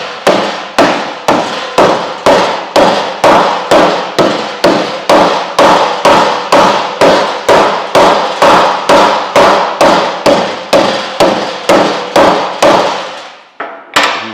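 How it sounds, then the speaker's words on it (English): Sheet metal hammered on a sandbag with a polished hammer, about two dozen loud, evenly spaced blows in steady rhythm, close and alone with no talk. "just using a sandbag and a hammer that's basically polished"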